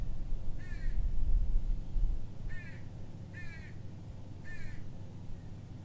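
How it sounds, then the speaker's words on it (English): Crows caw in a garden, four separate harsh calls spaced a second or so apart at moderate distance over low outdoor rumble. "And here we have some crows gathering."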